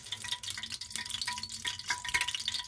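Fried jackfruit pieces being stirred in a pan of hot oil, with a steady scraping, rustling stir over a soft continuous sizzle, close and moderately loud.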